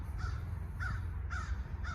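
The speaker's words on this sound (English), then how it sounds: "Crows, you're being loud." Crows caw repeatedly at a distance in the Mojave Desert, four harsh calls spaced about half a second apart over a steady low rumble of wind or traffic.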